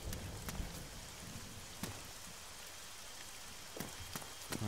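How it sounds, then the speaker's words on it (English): Steady rain in the video game Arma 3 patters across a surface, with scattered sharper drops and a few soft thumps standing out now and then. "Oh, now it's raining, that's good."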